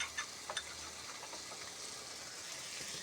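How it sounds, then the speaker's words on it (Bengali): Dried fish frying in a pan with turmeric, chili and coriander powder, a steady low sizzle and hiss throughout with a few faint stirring clinks near the start, quiet and continuous. "আমি সুরের শুটকিটা একটু ভাজি করে নিছি।"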